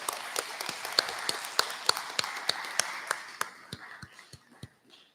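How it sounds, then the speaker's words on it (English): At a school senior thesis presentation day, a small audience claps: sparse, distinct hand claps ring out in an irregular rhythm, close and sharp, thinning out and fading toward silence at the end. "Let's give her a round of applause, please."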